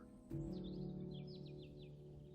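A Bell's Vireo call in the Wingspan board game, a quick run of bright chirping notes, faint and close, over a steady musical drone that starts with a soft thump.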